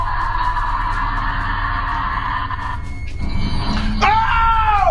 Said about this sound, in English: You can hear a horrifying guttural scream in the video.